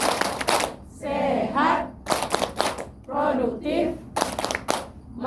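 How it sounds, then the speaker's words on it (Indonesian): A group of elderly participants claps in rhythmic bursts along to a chanted clap routine at a health orientation session, sharp hand claps alternating with the group's chanted words. "Tepuk lansia."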